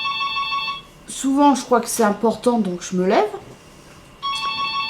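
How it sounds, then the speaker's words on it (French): A home telephone rings with a steady electronic tone, first alone and then again at the end, while a person speaks French in between. "Oh, c'est le téléphone."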